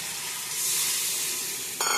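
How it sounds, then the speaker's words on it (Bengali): Catla fish pieces frying in a pan, giving a steady, loud broadband sizzle with no talk, briefly swelling in intensity near the end. "আর এখানে বন্ধুরা কাতলা মাছ ভাজা, এটা ভাজাই খাবো"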